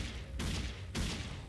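Two gunshots fired in the shooter game Dead Effect. The bursts land about half a second apart, each followed by a wash of loud, noisy ringing that fills the whole clip.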